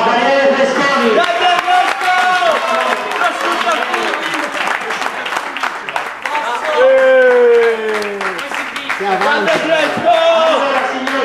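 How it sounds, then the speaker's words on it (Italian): Applause from a seated audience at a live Italian stage event, a loud steady wash of clapping with scattered cheers, under music and an emcee's voice throughout. "E un grande applauso a Daniele Fresconi."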